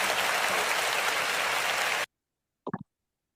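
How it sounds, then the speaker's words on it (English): A loud recorded applause sound effect played during a wrestling chat show: a dense, even roar of clapping that stops dead after two seconds, followed by silence and a brief faint murmur. "That was a bit loud, that applause."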